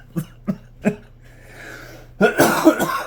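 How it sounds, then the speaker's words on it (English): Three short, sharp coughs in a steady rhythm, followed by a louder rough burst of coughing and throat clearing, close to the microphone. "Still got a bit of a residual cough, we'll say."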